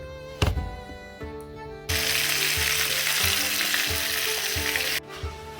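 Fish pieces frying loudly in a hot pan, a steady dense sizzle with crackles that stays up close for most of the stretch, with a few low knocks and clatters around it and no talking.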